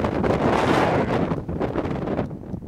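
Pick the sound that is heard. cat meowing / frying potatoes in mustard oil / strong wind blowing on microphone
strong wind blowing on microphone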